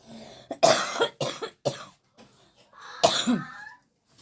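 A person coughs several times in quick, harsh bursts, pauses, then coughs again more heavily.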